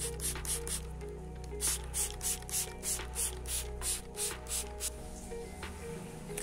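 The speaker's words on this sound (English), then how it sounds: "Using spray bottle mist the surface to ensure the seeds make contact with the moist media." Spray bottle misting distilled or rain water over seed-sowing media for carnivorous sundew seeds, a long run of about a dozen short, evenly spaced hissing spritzes, close and fairly soft over a steady low background hum.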